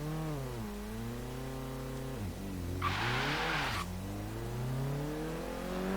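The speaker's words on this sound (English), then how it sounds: "you can still hear the tires having a very, very hard time at this" In Forza Horizon 3, a Renault Clio RS200's tires squeal in a short burst over a revving engine whose pitch rises and falls, the noisy screech lasting about a second.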